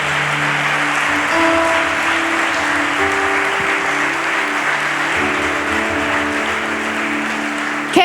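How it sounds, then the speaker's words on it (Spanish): Church congregation clapping in praise during a sermon, loud and sustained, with sustained musical tones, likely an organ or keyboard, holding underneath the clapping. "Denle un aplauso al Señor."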